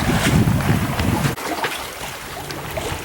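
A sailboat under full sail with main and genoa set, out on the Gulf of Mexico, with steady broadband wind rush and water hiss, one brief dip partway through, and no voices.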